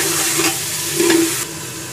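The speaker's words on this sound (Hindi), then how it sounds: "शिमला मिर्च और पनीर। इसको हम भूनेंगे 2-3 मिनट।" Capsicum and paneer fry together with peas in a pan, a close, loud sizzle with repeated scraping stirs of a spoon and no talk.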